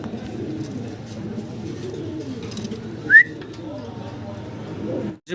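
Fancy pigeons coo steadily in low, overlapping murmurs throughout, with one brief higher whistle-like call partway through; close and continuous, with no talk.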